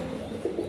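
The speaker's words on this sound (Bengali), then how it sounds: "আমরা এখানে আরেক জোড়া কবুতর দেখতেছি" Pigeons at a seller's lofts, among pairs of crested Gorra pigeons, give a few soft, low coos close by, with the last coos swelling near the end of a brief stretch.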